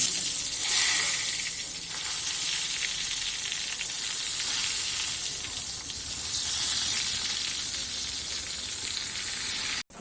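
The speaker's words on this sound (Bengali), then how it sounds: "এইবার আমি বেগুনটা একটা একটা করে বেগুনগুলো দিয়ে ভেজে দিতে তেল" Slices of eggplant fry in hot oil in a pan, a bright, continuous sizzle that stays loud and even throughout with faint crackles and no speech.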